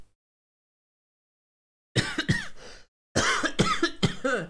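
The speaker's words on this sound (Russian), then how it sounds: "лучший тест для микрофона это покашлять в него" Several sharp coughs delivered straight into a microphone as a test, after two seconds of silence: a cluster of close, loud coughs, a short pause, then another burst of coughing.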